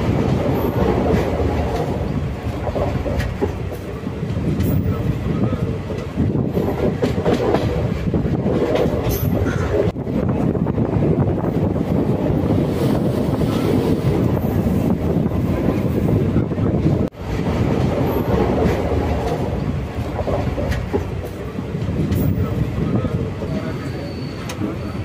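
Auroville Express passenger train running from Puducherry to Chennai Egmore, a steady loud rumble with rhythmic clickety-clack of wheels over rail joints and wind buffeting the microphone throughout.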